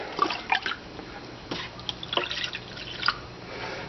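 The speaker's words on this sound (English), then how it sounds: "fill it back up with water." Water trickles and drips into a plastic tray of blackworms as it is refilled, with soft splashes and scattered droplets at a close, quiet level.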